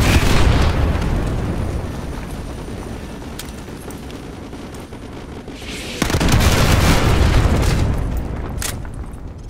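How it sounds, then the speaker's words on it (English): Artillery strike explosions in Call of Duty Modern Warfare 2 Remastered, with heavy rumbling booms that roll on continuously and then a fresh loud blast about two-thirds through, followed by sustained roaring detonations. "Fire mission received. Artillery inbound."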